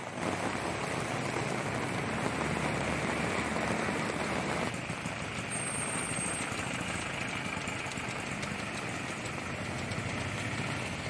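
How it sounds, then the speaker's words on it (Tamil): Dense, steady hiss of heavy rain with wind, with a low droning rumble underneath, continuous and fairly faint throughout. "காற்றுடன் கூடிய பலத்த மழை பெய்தது"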